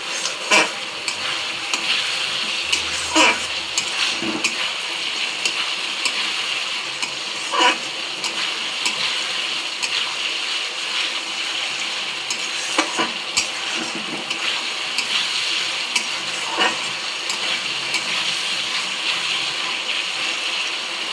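Spice paste being sautéed in oil until the oil separates, a steady close sizzle with repeated spatula scrapes and stirring knocks throughout.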